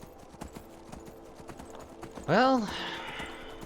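A horse in the game Skyrim neighs loudly in a clear descending whinny over steady clip-clopping hooves, with a man's brief speech nearby.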